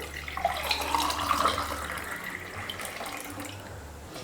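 Strained carrot juice is poured into a glass, making a soft, continuous trickle that lasts about four seconds at low volume.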